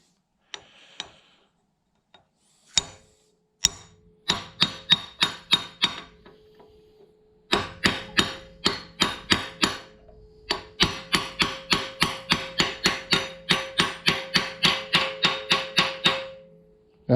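A brass punch is hammered against a steel dowel pin in a 2012 Hemi 1500 cylinder head, sharp metallic strikes starting sparse, then settling into fast, steady rhythmic runs of loud, ringing close taps.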